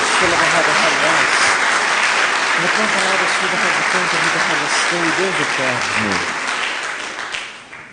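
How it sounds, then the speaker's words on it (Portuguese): A church congregation gives a loud round of applause for Jesus, sustained clapping with voices calling out over it, fading toward the end. "Dê uma salva de palmas a Jesus"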